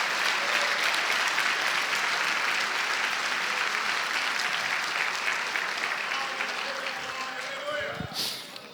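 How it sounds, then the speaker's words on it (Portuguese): A church congregation applauds during a sermon with sustained, dense clapping from a large crowd. It fades slightly toward the end as a few louder individual claps and shuffles stand out. "Vamos aplaudir o Senhor mais uma vez"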